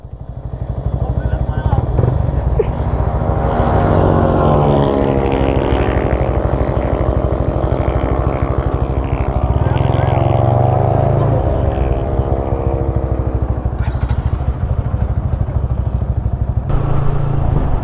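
A Bajaj RS200 or Yamaha R15 v3 motorcycle accelerates hard over an 800-metre run. The engine note climbs through the gears in repeated rising sweeps, loud and close, with a deep rumble underneath.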